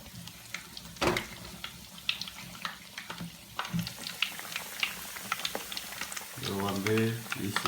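Masala vada frying in hot oil makes a soft, steady bubbling and crackling sizzle with scattered pops. It stays fairly quiet throughout, and a few brief clatters and a short tonal sound near the end break in.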